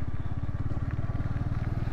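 Motorcycle ridden with a helmet-mounted camera, its engine giving a steady, close, low rhythmic thumping throughout with no talk.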